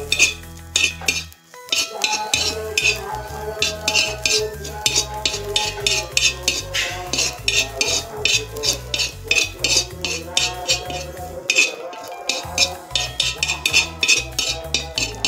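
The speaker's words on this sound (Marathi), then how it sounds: "आता आपल्याला ही भाजी हलवून घ्यायची." A spoon clanks and scrapes against a pan while asavale greens, a tribal leafy vegetable from Maharashtra, are stirred as they cook. The metallic clinks come close and loud in a steady, busy rhythm, with a brief pause near the start and no talking.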